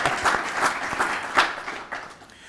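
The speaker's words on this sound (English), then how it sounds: "well, we can clap." Audience applause at a business luncheon, a steady wash of many hands clapping with a few louder bursts, fading toward the end.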